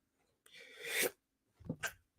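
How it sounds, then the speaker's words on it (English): One person sneezes quietly: a breathy intake and a hissing burst, then a short snuffling, throaty follow-up close to the microphone. "Ooh, got to sneeze."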